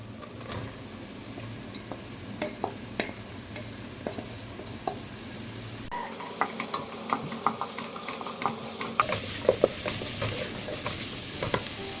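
Finely chopped onions frying with a pinch of salt in a pan, a steady close sizzle punctuated by frequent scraping and tapping of a spatula as they are stirred, with no voice over it.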